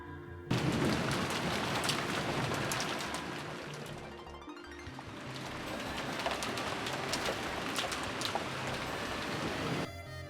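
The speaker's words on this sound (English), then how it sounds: "You can clearly hear how realistic the rain sounds here." Steady rain pattering in a horror sound novel, with pigeons cooing over it, continuous and moderately faint throughout.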